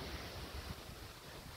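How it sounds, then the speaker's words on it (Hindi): Strong wind gusting on a hilltop with light rain, a steady, roaring rush buffeting the microphone at low level with no voices. "बहुत बड़ा हवा आने लगा"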